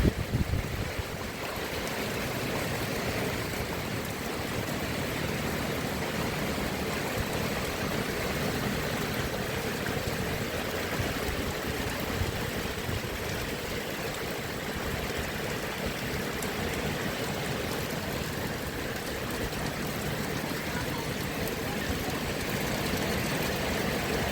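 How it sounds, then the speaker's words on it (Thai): Heavy rainwater rushes across roads during the first hard rain of the year, a steady, dense wash of flowing water that continues without a break and sits close to the microphone, with no talking over it. "รอบนี้น้ำไหลถนนหนทางเลย"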